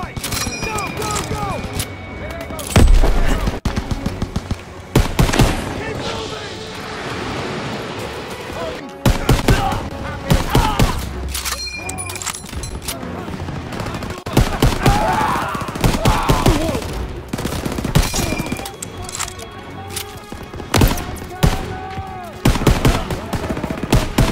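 Bursts of machine gun fire and other gunshots in the video game Battlefield 1, loud and close, repeating in rapid volleys over shouting voices and battle noise.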